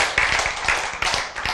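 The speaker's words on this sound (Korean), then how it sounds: "그걸 박수 치세요" Clapping from a church congregation during a Korean sermon, a dense burst of hand claps with distinct sharp hits, close and fairly loud, with no talking over it.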